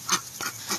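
A goose honks three times in a quick, loud, nasal series, close by and alone, during a morning hangout with a pet goose.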